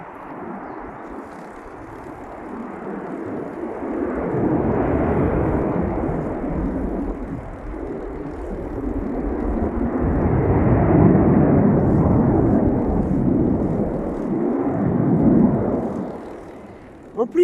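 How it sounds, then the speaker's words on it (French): Airplanes drone overhead in a low, heavy roar that swells, fades, and swells again, staying broad and somewhat distant throughout. "on les voit pas trop, ces avions. On entend surtout ces gros bruits."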